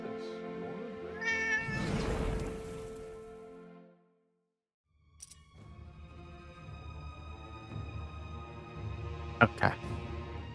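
A cat in the video game Forspoken meows clearly amid music and game ambience while a person talks over the scene.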